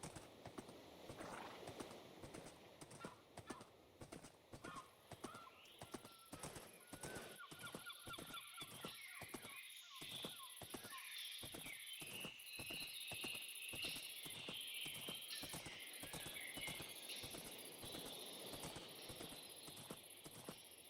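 Hooves of a video game horse clip-clop in a steady, even rhythm throughout, with faint honking bird calls and a soft ambient backdrop in the game world.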